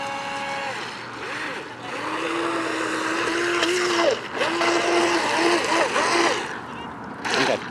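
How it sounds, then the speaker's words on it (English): A Double Horse 7009 toy speedboat runs at full throttle, its small motor giving a thin, steady whine that rises and warbles in pitch with water splashing and rushing around it, fairly close and loud. "Now I'll crank the throttle here to full tilt. There's full throttle."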